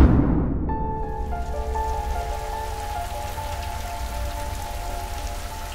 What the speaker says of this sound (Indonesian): Setelah tadi angin lembah, tiba-tiba hujan bang.